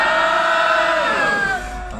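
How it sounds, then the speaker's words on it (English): A concert crowd at a Birmingham show joins in a wordless sing-along, a loud sustained collective shout that rises and holds, then slides downward and fades. "That sounded like a Yorkshire crowd to me."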